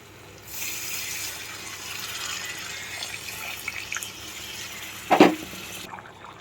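Water poured into a pan of raw prawn and green mango curry, a steady splashing pour for several seconds, close and moderately loud, ending with a clunk of the pan or vessel, with no talking.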